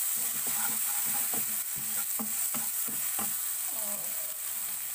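Peas and tomatoes with turmeric and salt sizzle steadily as they fry in a pan, while a spoon scrapes and stirs them in a quick, irregular rhythm close by.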